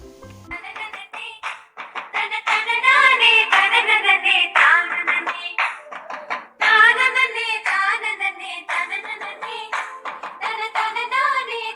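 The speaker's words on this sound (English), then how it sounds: "Kummi dance is nothing but rhythmic clapping with Kummi songs" Rhythmic hand clapping from a Kummi folk dance, steady claps keeping time under the singing of Kummi songs, lively and fairly close throughout.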